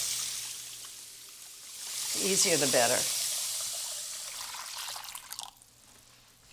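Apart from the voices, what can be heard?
hot tap water running for a custard water bath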